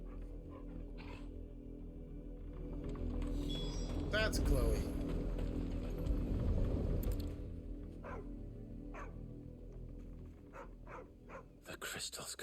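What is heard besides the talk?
dogs barking, from video game Final Fantasy XVI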